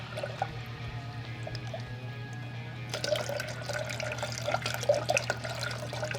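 Liquid, likely coolant, poured into the radiator of a 1999–2004 Jeep Grand Cherokee during a radiator replacement: a steady trickling flow that turns busier and splashier partway through, heard close up over a constant low hum.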